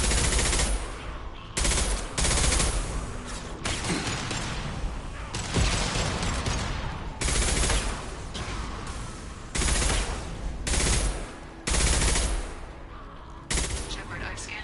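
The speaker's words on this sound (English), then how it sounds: "Firing concussive shots!" Concussive shots and bursts of automatic gunfire from a Mass Effect 2 firefight, loud repeated blasts and rattling volleys in uneven clusters, with brief in-game voices mixed in.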